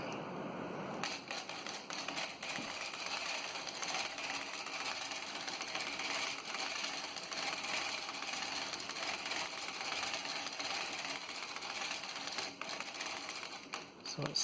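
A 3D printed circular sock knitting machine with a ribber added, needles set every other slot for 3x1 ribbing, being hand-cranked: a steady, dense mechanical clatter and rapid ticking that runs continuously and fairly close throughout.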